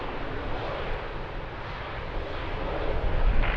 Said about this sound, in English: Beautiful, very nice landing